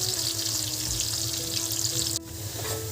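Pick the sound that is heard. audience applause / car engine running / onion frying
onion frying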